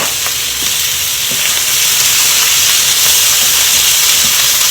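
Stuffed portobello mushroom filling with onion powder frying in a hot pan, a loud, steady hissing sizzle that holds throughout with faint crackles.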